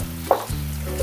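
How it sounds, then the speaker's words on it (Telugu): Potatoes fry in a pan for sago khichdi, giving a continuous close sizzle with a soft stirring scrape partway through. "ఆలు ఫ్రై అయిందా లేదా"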